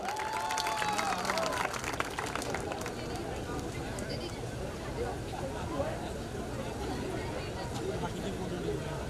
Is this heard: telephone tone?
no